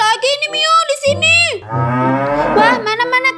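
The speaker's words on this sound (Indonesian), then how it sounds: "Wah, Mio, ada sapi satu lagi ini, Mio, di sini." Cattle gathered as sacrificial animals aboard a cattle ship moo loudly and close by, several long, drawn-out bellows following one another with no talking.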